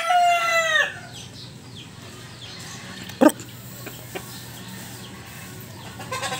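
A rooster gives one loud, close crow at the start, then quieter clucking and scattered knocks from chickens around the yard.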